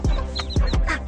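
Hens and young chicks on a Korean farm cluck and peep in a few short, close calls, with several soft clucks and higher chirps coming one after another.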